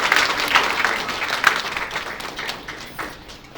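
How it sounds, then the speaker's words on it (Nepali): Wedding guests break into a brief, lively round of welcoming applause, a dense patter of clapping that gradually tapers off. "मण्डली परिवार हामी ताली बजाएर एक साथ हामी स्वागत गर्छौँ"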